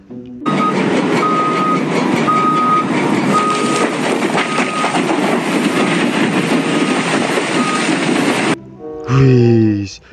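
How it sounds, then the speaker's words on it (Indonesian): A loader vehicle in the Jurassic World Evolution 2 video game reverses, its loud engine drone carrying steady repeated warning beeps before cutting off to a brief falling game sound. "Ini mobil loader."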